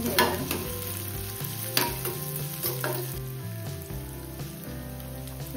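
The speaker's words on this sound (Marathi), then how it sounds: "तेलामध्ये आपण थोडा कांदा परतून घ्यायचा" Chopped onion frying in hot oil in a pan, a steady close sizzle with occasional stirring scrapes and a faint tonal hum underneath, no talking.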